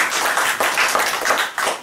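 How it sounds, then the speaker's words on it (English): A small audience at a comedy performance in a church venue claps for a comedian, a close, loud burst of clapping that pulses unevenly and dips briefly near the end. "Thanks for the applause."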